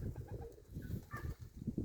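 Pigeons cooing softly in a poultry yard, a low, steady murmur of repeated coos with a few brighter calls, moderately close and without talk.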